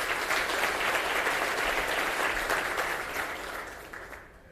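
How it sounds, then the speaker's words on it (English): Audience applause at an annual day-of-learning ceremony, a dense steady wash of many hands clapping together that holds loud for several seconds and then gradually thins out toward the end. "Colleagues, let's give them a round of applause."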